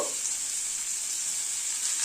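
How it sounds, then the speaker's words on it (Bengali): Pumpkin pieces fry in hot oil in a pan, giving a steady, close, bright sizzle that holds even throughout with no talking. "এখানে খানিকটা কুমড়ো কেটে নিয়েছি, কুমড়োটা দিয়ে দিচ্ছি। কুমড়োটাকেও একটুখানি ভেজে তুলে নেব।"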